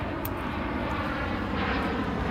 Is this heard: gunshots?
no